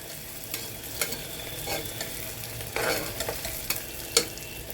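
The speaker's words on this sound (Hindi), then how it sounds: "यहाँ हमको प्याज को ब्राउन करना है" Chopped onions frying in a pan on a gas stove, a continuous soft sizzle punctuated by repeated scraping stirs of a spoon, with a louder clack of utensil against pan toward the end.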